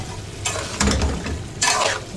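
Radish and meat sautéing in a pan, stirred in a few bursts; loud close sizzling swells with each scrape of the spoon over a low hiss, with no one talking.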